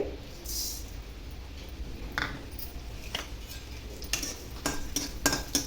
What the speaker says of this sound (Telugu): ఒకదాని తర్వాత ఇలా వేయించుకోవాలండి సన్నని ఫ్లేమ్లో